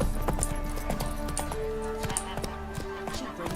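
Roach, the horse in The Witcher 3, gallops in a steady rhythmic clip-clop of hooves, close and clear, running throughout over a faint background drone.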